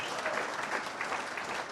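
Audience clapping at a 2013 retirement party for Michael Caira, a steady dense wash of applause sustained throughout without breaks, moderately loud and close, with a faint murmur of voices mixed in.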